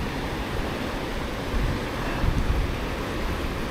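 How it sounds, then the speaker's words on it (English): Turbulent river water churning below a dam on the Fox River, heard as a steady, loud, broadband rush with gusty swells and no voices. "The water's really churning over here."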